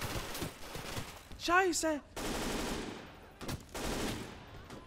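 Machine gun fire in the Gates of Hell war game, bursts of rapid shots rattling at moderate level, with a voice exclaiming partway through.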